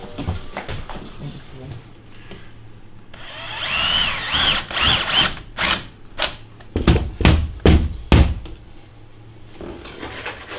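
A Bosch cordless drill-driver whirs in several short bursts, its motor revving up and stopping repeatedly, over low background noise.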